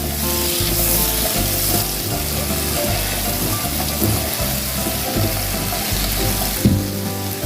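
Onions, tomatoes and green chilli sautéing in butter for butter chicken, heard as a continuous close sizzle with repeated stirring scrapes and a sharper clack near the end, with no talking.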